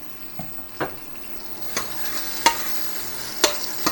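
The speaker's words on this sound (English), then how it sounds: "this is not so much sauteing as it's kind of burning" Mushrooms frying in a pan with too little oil, starting to burn while being cooked for homemade ramen: a steady sizzle under occasional sharp scrapes and stirs of the pan, close and moderately loud, with no talking.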